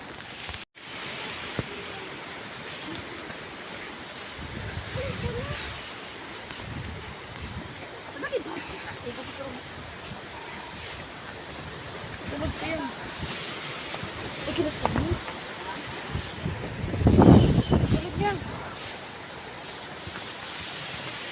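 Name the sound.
strong wind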